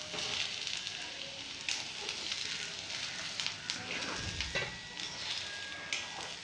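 Potato and onion poriyal being sautéed in a pan, a soft steady sizzle with occasional stirring scrapes and clinks, fairly quiet and close.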